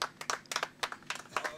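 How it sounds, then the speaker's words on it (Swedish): Applause from a small outdoor crowd at a disc golf tour award ceremony in Falköping, a few bursts of scattered clapping at moderate distance, uneven and brief. "Stora applåd."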